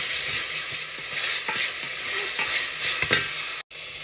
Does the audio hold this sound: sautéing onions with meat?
yes